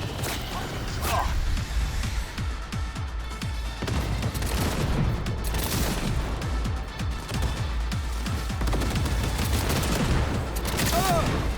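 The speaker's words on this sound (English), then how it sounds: "Panzer turret, use that!" Heavy, rapid gunfire from a Panzer turret in Cyberpunk 2077: Phantom Liberty, sustained loud bursts of booming shots with crashes and impacts overlapping continuously.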